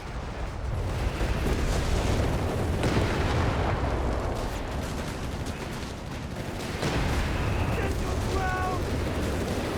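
Heavy artillery fire in Company of Heroes 3, a World War II strategy game, rumbling as dense, continuous booms and blasts under a talking commentator, loud throughout with a brief beeping near the end.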